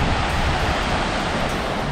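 Ocean surf rolling in along the Zanzibar shore in Tanzania, a steady, unbroken wash of broadband noise that holds at an even level with no distinct individual wave breaks and no voices.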